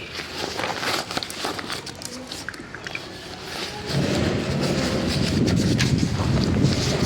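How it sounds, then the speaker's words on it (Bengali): Strong wind blows in through an open door in a home in Cuttack, rushing and buffeting against the microphone; it grows noticeably louder and fuller partway through, with no talking. "প্রচণ্ড হাওয়া দিচ্ছে, দেখো বাইরে দরজাটা খোলা, তো প্রচণ্ড হাওয়া দিচ্ছে বাইরে"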